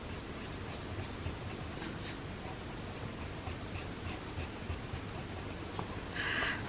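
Colored pencil shades across paper with a soft, steady scratching, close and quiet, in continuous back-and-forth strokes with a slightly brighter rub right at the end.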